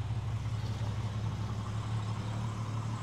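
An early BMW M car engine idles with a steady, low, even rumble, fairly quiet and unbroken throughout.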